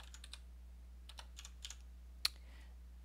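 Computer keyboard keys are pressed in short scattered clusters of quiet clicks, ending in one sharper, louder keystroke, over a low steady hum with no talk.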